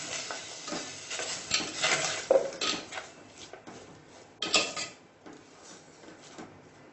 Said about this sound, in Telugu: యాడ్ చేసి ఒకసారి ఇలా మిక్స్ చేసుకోవాలండి.